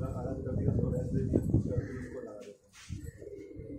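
Racing pigeons in a loft give low, soft cooing close by, heard under men's ongoing conversation.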